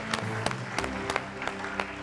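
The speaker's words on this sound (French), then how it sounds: "Je pense que ça s'applaudit." Sparse, faint audience applause with a few distinct claps, heard under a steady musical or tonal background bed, fairly distant and brief.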